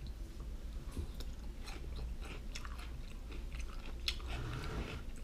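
Crunchy chewing and biting of a strawberry-flavored pickle close to the mic, a steady run of crisp crunches with a low rumble underneath and no talking.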